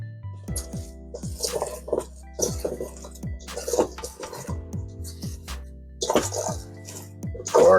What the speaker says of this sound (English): Throw our cabbage in there.